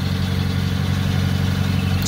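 A 1949 Packard Super 8 sedan with well-kept exhaust mufflers idles close by, its engine producing a steady, low, even rumble that stays loud and unbroken throughout.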